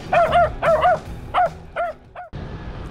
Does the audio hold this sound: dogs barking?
yes